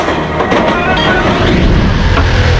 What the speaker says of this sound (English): noise from incoming trains might control a station's climate